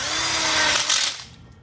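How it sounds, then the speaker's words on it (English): A power drill drives a screw through the connector plate of a welded split outdoor kitchen bar kit, a loud close whine lasting about a second before cutting off and fading. "We go ahead and screw it in, the connector plate"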